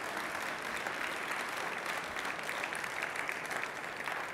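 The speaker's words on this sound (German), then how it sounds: "Ich bitte um einen herzlichen Applaus." Warm applause from the audience closing a panel discussion on energy's future at the ineltec 2015 trade fair, even continuous clapping from a large crowd, moderately distant and without speech.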